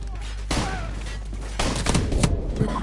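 Gunfire in Call of Duty 4: Modern Warfare on a veteran-difficulty campaign mission, with several sharp shots and a heavier burst late on. The shots sit over a steady game din and blend with speech-like sounds.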